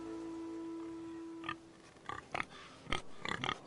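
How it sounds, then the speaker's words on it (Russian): A pig in the video game Game of Thrones: Iron from Ice gives several short snorting grunts in quick bursts over the last two seconds, faint against a quiet hum. "Свинка Пеппа. Ну, почти Пеппа."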